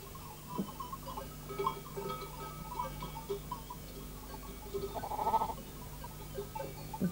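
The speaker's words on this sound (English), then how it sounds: "Here the sheep are being called into the milking pen." Sheep, with a few goats among them, bleat as they are called into a mountain milking pen in Sphakia, Crete: faint, distant calls under steady outdoor hum, with one clearer bleat near the end and no talk.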